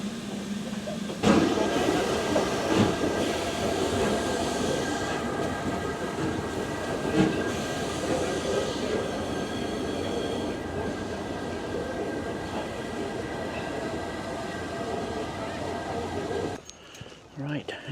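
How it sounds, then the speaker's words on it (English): Long train rolling past at a station in the seaside town of Whitby, North Yorkshire, a continuous loud rumble and rattle of wagons with faint wheel squeal, and people talking over it throughout before the noise drops away near the end. "we're going to wait up here and see the train hook up onto the front now"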